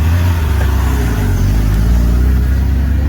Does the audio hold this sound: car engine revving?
yes